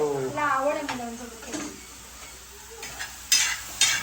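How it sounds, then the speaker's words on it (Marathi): Onions cooking in hot oil give a soft, steady sizzle close by, with a short stretch of talk at the start and a few sharp clatters of utensils near the end. "तेलामध्ये कांदा शिजवून घेणार आहे"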